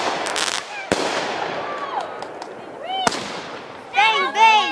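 Fireworks burst outdoors in a few sharp, loud bangs with crackling and whistling streaks, while people chatter and call out nearby throughout.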